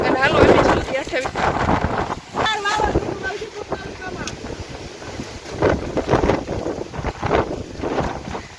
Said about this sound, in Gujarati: જો તમને પવનનો અવાજ આવતો હશે